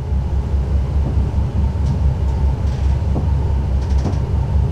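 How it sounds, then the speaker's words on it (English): Onboard rumble of a Class 720 train approaching Meridian Water station, a loud, steady low roar of wheels and motors with faint rattles and squeaks throughout. "We are now approaching Meridian Water, where this train terminates."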